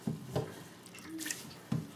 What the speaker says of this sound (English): squeeze the water out a little bit